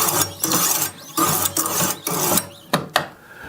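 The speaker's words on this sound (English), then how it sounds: "you simply just want to run that grit, that stone, along the bevel" A Wicked Edge Field and Sport Pro sharpener's coarse stone rasps along a knife bevel in steady, loud, close strokes, each scrape lasting about half a second, followed by a couple of sharper short passes.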